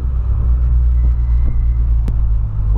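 A Volkswagen Polo TSI with a large exhaust rumbles loudly up close, a deep, steady low-frequency roar with a faint pulsing beat and a brief sharp click near the end.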